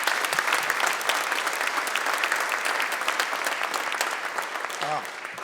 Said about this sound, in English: I'd love to just start out by giving them a round of applause.